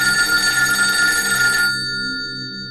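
A telephone bell rings in a rapid trill for about a second and a half, then cuts off, leaving a quiet tone that fades away.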